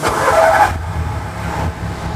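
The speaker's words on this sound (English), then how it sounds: "You need to start the battery, get the ignition on, and press the magic button." A rally-spec VW Polo with a 1.2 TSI engine, manual gearbox and MoTec ECU fires up: a short, bright starter burst, then the engine settles into a steady, low, rumbling idle, close and alone.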